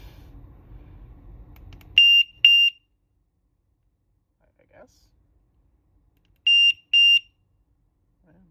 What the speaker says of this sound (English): Double clicking it to activate buzzer mode.